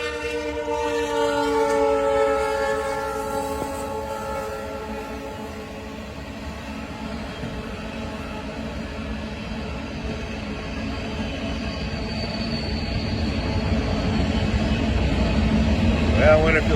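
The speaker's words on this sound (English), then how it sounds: "Whoa, sounds like a train's coming" A train passes near the Redding railroad station in Shasta County, California, opening with a loud, drawn-out horn blast, then rolling by with a broad rumble that grows louder and closer toward the end.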